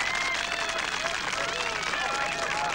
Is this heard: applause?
yes